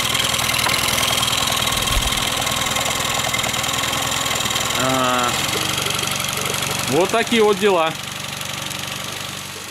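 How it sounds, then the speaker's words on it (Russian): A Yamaha F15 outboard motor idles after a valve adjustment, a steady close mechanical chug with a light knocking rhythm running throughout, while someone talks briefly over it. "даже под такой шум холостого хода приятно закончить ролик"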